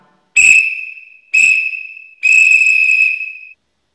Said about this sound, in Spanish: Y por último tenemos la U, que es punto punto raya.